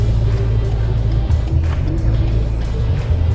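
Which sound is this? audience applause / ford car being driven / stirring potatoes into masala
ford car being driven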